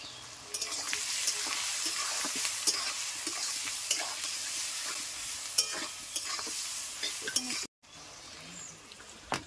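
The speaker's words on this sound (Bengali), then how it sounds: "দেখো আমার পেঁয়াজ আর আলু ভাজা হয়ে গেছে" Sliced onions and potatoes fry with salt and turmeric in a pan, hissing steadily while a utensil stirs and scrapes with occasional clinks; the sound briefly cuts out near the end.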